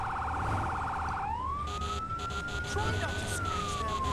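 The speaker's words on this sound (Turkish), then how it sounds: "Yalnız bunların kornası ayrı bir" A fire truck siren wails in the video game Firefighting Simulator, a loud pulsing warble that shifts into a long rising and falling tone, with bursts of a horn blasting over it and someone talking.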